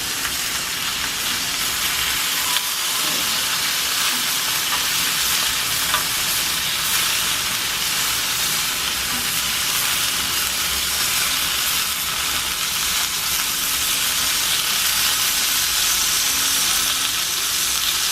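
Squid grills in olive oil on a hot pan, a loud, continuous sizzle and crackle with steady hiss that carries on without pause and with no talking.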